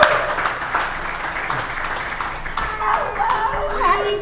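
A live show audience in Cabo claps to welcome guests, a moderate round of applause with some cheering, while hosts and guests talk and laugh over it near the microphone.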